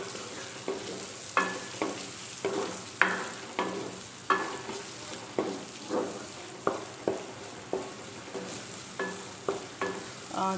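Onions fry to light golden in oil under a continuous sizzle, with regular scraping stirs of a spoon against the pan, about one every second, close and clear.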